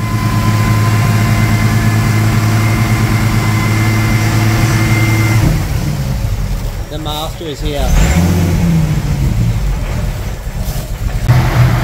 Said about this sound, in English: that's now idling so much nicer and we haven't even started tickling with it yet